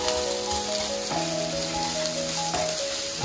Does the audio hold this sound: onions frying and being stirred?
yes